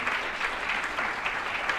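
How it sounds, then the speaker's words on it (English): Audience applause at a keynote presentation for Vivaah Celebrations in the UAE, a steady dense roar of many hands clapping at once, sustained and fairly loud across the whole moment with no voices over it. "So a big round of applause to all of you for being here."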